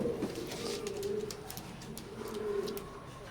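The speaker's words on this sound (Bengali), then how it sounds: "স্ক্রিনে এখন যে কবুতরগুলো দেখতে পারতেছেন প্রত্যেকটাই হোয়াইট গোল্ডেন কবুতর" White golden Teddy pigeons cooing close by, with repeated soft throaty coos rolling one after another, plus faint clicks and rustles in the background.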